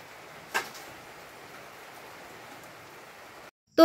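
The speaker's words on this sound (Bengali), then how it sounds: "বৃষ্টি পড়ছে।" Rain falling outside, a soft steady hiss at moderate distance with one brief knock early on, cutting out abruptly near the end.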